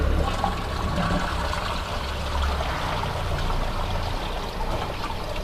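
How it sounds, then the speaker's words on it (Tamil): A household toilet with a tank that is not refilling properly, flushed so that water rushes and gushes steadily through the bowl for several seconds, a continuous close-up torrent of draining water. "இப்போ நம்ம ஃப்ளஷ் பண்ணிடலாம்."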